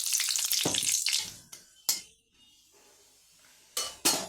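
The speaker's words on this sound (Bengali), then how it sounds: "মাছ ভাজার তেলের মধ্যেই আমি একটা শুকনো লঙ্কা আর কালো জিরা দিয়ে দেবো" A dried red chilli and nigella seeds hit hot mustard-oil left over from frying fish, bursting into a loud sizzle that fades, followed by a few sharp spatters and stirring clinks against the pan.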